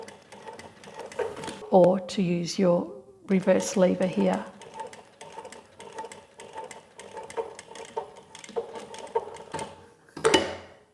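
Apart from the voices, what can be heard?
industrial walking foot sewing machine Model 1903SX sewing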